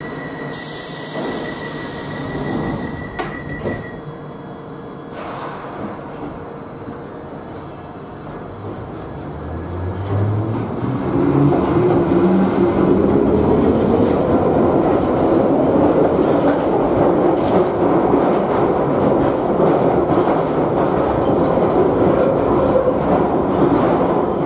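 A London Underground Piccadilly Line train rumbles loudly along the track at night, its wheels clattering and squealing as it gathers speed, with a brief chime and tone early on.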